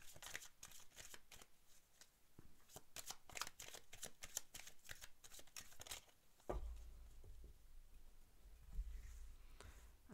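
Tarot cards being shuffled close up, a quiet run of quick papery riffles and flicks, followed by softer handling with a low rumble underneath.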